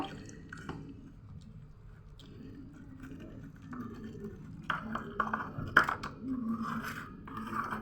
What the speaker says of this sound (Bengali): পরিমাণ মতন পানি দিব